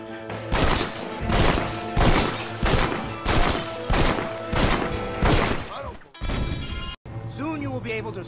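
Loud gunshots bang out in Red Dead Redemption at a steady rhythm, roughly one blast per second, then a brief crash; a character's voice sounds between shots.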